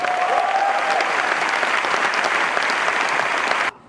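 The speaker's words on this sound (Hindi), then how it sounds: "इसलिए तालियां बजा सकते हैं जोरदार?" Thunderous applause from a large audience at an Amway Diamond Celebration fills the space, a dense, steady clapping roar with a brief whistle early on, cutting off abruptly just before the end.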